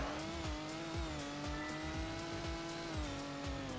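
A sports car in the Roblox-style game Car Crushers 2 speeding toward a ramp, its engine droning at a steady high pitch with repeated tire squeals and rhythmic thumps over the road.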